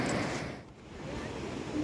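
Broadband wash of sea surf at Anjanvel beach on the Konkan coast, steady and fairly faint with a brief dip, like waves breaking at a distance under light wind.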